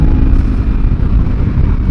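A Kawasaki Z300 motorcycle engine rumbles loudly close by, holding a constant drone at high revs around 5,500 to 6,000 rpm with no pauses.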